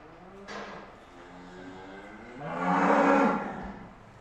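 Cows from a farm herd in the Pyrenees-Atlantiques low twice, a short moo followed by a longer, louder, drawn-out bellow close by, with no talk over them.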